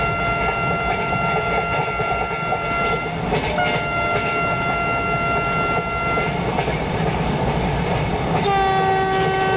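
Vande Bharat Express train in a train simulator game passing Dungri station without stopping, with a steady close rumble and clatter of wheels. Sustained horn-like tones are layered over it, and a higher horn blast enters near the end.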